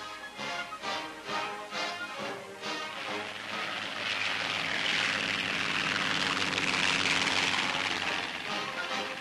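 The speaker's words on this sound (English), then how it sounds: "Here's how it's picked up without the towing plane having to land." A towing plane picking up a glider in flight during 1940s glider warfare, a steady droning propeller engine that swells louder toward the middle and holds, with no voices.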